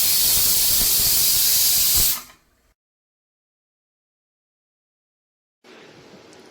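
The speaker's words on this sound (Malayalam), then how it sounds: "അഞ്ചാറ് വിസിൽ വരുന്നത് വരെ കുക്കറിൽ അടിച്ചെടുക്കാം" Pressure cooker on the stove, cooking lentils with turmeric and water, letting off a loud broad hiss of steam for about two seconds before cutting off abruptly, followed by silence and then a softer renewed hiss.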